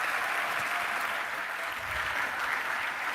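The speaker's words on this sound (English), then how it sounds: "Give her a warm round of applause." At a benefit gala, an audience offers warm, continuous applause, dense and even for the whole stretch.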